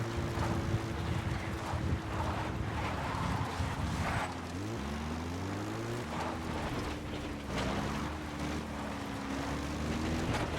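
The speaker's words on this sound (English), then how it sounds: "Caution. Sandstorm approaching." Sandstorm wind in Metal Gear Solid V: The Phantom Pain, a steady gusting rush under low droning tones that bend and shift in pitch, moderately loud throughout.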